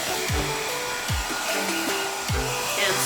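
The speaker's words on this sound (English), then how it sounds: "And so I'm going to go ahead using the dryer" A hair dryer drying paint on a tin pumpkin door hanger blows with a constant loud whooshing hum, broken by a few low thumps.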